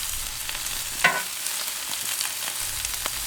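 Bacon and mushrooms frying on a Weber Q 3200 griddle outdoors, a soft steady sizzle with crackling pops and one brief scrape of a utensil, close and quiet with no voices.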